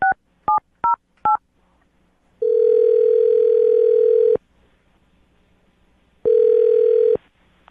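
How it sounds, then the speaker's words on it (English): Four quick touch-tone beeps of a number being dialed, followed by two long electronic ringing tones separated by a pause. "I'm going to dial her phone number right now."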